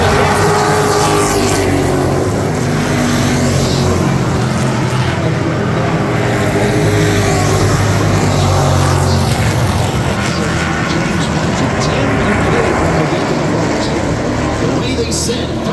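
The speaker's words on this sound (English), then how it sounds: "Side-by-side racing, little gamble." Sportsman-class race cars running side by side in a feature race, a dense, continuous engine roar filling the whole stretch at high volume, with voices faintly mixed in underneath.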